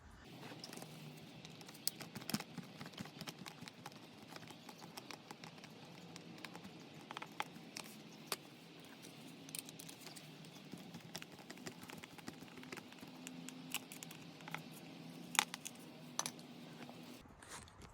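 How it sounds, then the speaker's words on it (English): Two Phillips screws being backed out of a Honda CBR650R tail tidy, heard as faint, scattered ticks and light tool taps over a steady low hum, close and quiet throughout with no voices. "Next, I'm going to be removing these 2 Phillips screws."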